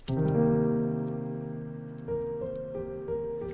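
A few sustained piano chords ring out alone, each struck and left to decay, soft and clear.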